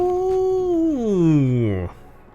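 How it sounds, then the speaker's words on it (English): A person lets out a long, loud howl that holds a steady pitch, then slides downward and cuts off sharply, with only faint background noise afterward. "Sorry for letting out a howl there."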